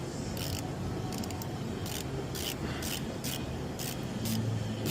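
A hand ratchet loosens a fastener while a 2021 Ford Mustang Mach-E's windshield washer fluid pump is being replaced, giving bursts of rapid clicking at a steady rhythm, close by over a constant low background hum.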